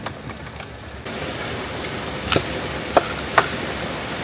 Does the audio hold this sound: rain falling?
yes